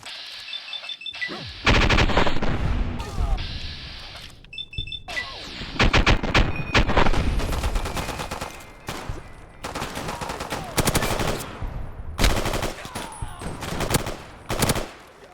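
Automatic gunfire from switch guns in Fallout New Vegas, with long rapid bursts of shots repeating across the clip, broken by short pauses, loud and close, with no voice over it.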